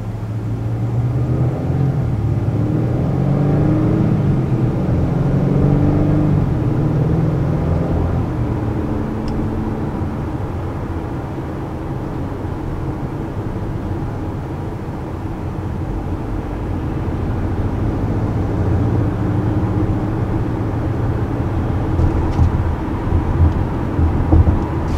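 A 2020 Acura RDX crossover's engine pulls steadily up to highway speed, a loud continuous drone with rising tones and road rumble underneath, alone with no talk.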